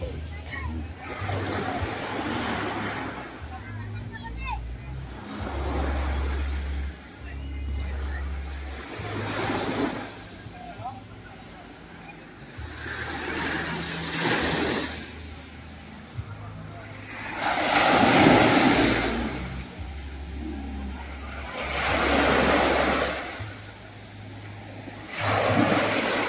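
Ocean waves at a beach surge and break in slow repeated swells, washing loudly then easing, with wind buffeting the microphone and a person talking over the surf.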